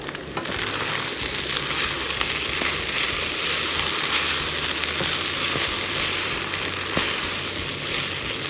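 Nasi goreng, Indonesian fried rice with beef strips, being stirred in a pan: a continuous loud sizzle with scraping and crunching from the spatula turning the rice.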